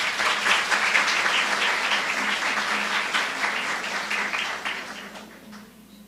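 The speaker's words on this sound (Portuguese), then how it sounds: "Uma salva de palmas para o Jorge, por favor." An audience applauds a speaker at a talk, a dense sustained round of clapping that holds strong for several seconds and then tapers off toward the end.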